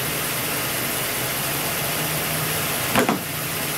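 A 2011 Lincoln MKX idles steadily at close range with a constant low hum and broadband whir, broken near the end by a brief louder burst.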